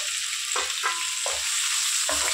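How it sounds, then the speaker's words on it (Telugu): Thinly sliced onions fry in a pan for Andhra-style prawn curry, a steady close sizzle broken by several distinct stirring scrapes at irregular intervals. "బాగా ఫ్రై చేసుకున్నాం ఉల్లిపాయని."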